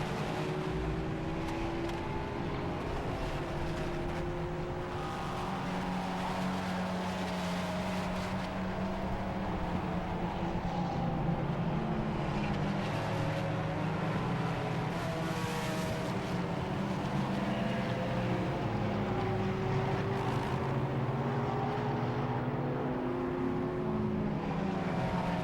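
Race cars, among them a Porsche Cayman battling in Class 4, roar continuously around Silverstone during a Britcar endurance race, engine notes rising and falling steadily over a constant broad rumble for the whole stretch.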